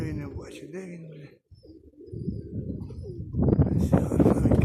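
Pigeons coo close by in short, low, throaty phrases, with a brief pause before the cooing resumes and louder, busier bird and background sounds join toward the end; people talk nearby.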